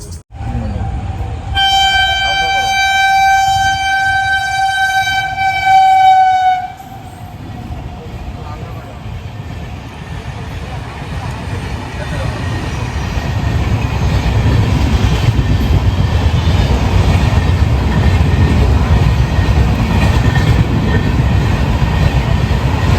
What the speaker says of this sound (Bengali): ট্রেন আসবে